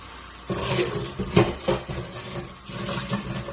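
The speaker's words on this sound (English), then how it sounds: "So to unthaw it, you run in lukewarm water." Lukewarm tap water runs steadily into a kitchen sink over frozen cooked shrimp to thaw them, a continuous splashing stream with a few louder gurgles and no talk.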